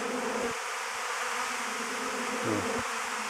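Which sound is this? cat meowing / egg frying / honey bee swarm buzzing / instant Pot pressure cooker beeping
honey bee swarm buzzing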